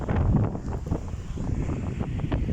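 Wind blows on the Baltic Sea shore in Poland, buffeting the microphone with a loud, continuous gusty roar. The low rush of the sea sits underneath.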